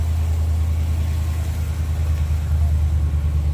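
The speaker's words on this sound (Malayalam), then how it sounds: "നമ്മുടെ വണ്ടി ഇവിടെ സ്റ്റാർട്ടായി നിൽക്കുന്നുണ്ട്" A car idles steadily after a remote start, a close, even low engine rumble heard alone for a few seconds.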